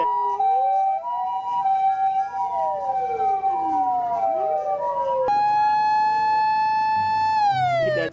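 A toy ambulance siren wails loudly and without a break, its electronic tone sweeping up and down, then switching abruptly to a brighter, stepped pattern partway through.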